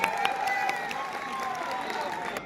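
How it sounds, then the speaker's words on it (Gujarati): Crowd applause at a packed, sold-out Gujarati comedy show in Surat, continuous clapping and cheering with a voice speaking over it. "આપના ગુજરાતી પ્રેમ માટે જોરદાર તાળીઓ છે"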